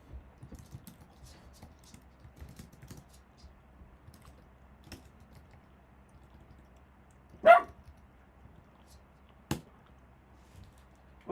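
A pet dog barks once or twice in a quiet room where someone is working at a computer, with light keyboard typing underneath; the sharp barks are brief and moderately loud, and no one speaks.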